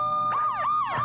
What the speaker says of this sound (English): Chief McGinnis turns on the siren at the exact same time he bangs on the front door